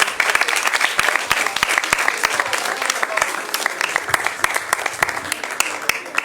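A church congregation applauding, many hands clapping loudly and steadily in a lively, sustained burst with scattered voices mixed in.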